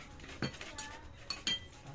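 Dishes clattering as someone fetches a container in a home kitchen: a few quick, faint clinks and knocks of plates and utensils over low background noise.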